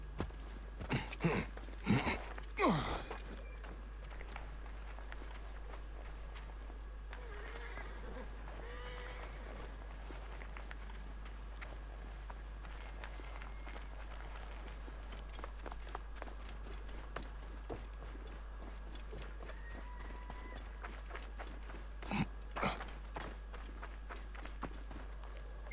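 A horse in the video game Assassin's Creed Origins gives a few sharp bursts of hoof clatter and restless animal noise early on, then quieter scattered stamps over a steady game ambience.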